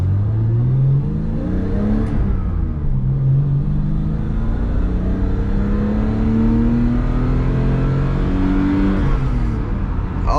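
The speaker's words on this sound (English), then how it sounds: "That was a strong, that was very strong rev right there." An old BMW E12 car engine revs out very high on a road drive, its loud whining tone climbing steadily then dropping, a close continuous roar with no talking over it.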